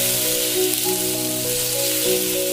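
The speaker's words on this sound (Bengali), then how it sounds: "তাওয়াটা ততক্ষণে তেল গরম হয়ে গেছে গা, এর মধ্যে আমি দিলাম মাছ" Spiced fish fries in hot oil on a griddle over a low gas flame with a loud, steady close sizzle, while a sustained musical tone plays underneath.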